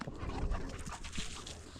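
A male puppy whimpers and pants softly in short, close bursts, with faint shuffling around it.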